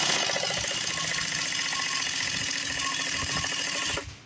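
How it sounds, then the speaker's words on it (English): A small portable Harbor Freight air compressor runs with a steady, buzzing mechanical drone, loud and close, before cutting off abruptly near the end. "This is my little portable Harbor Freight compressor."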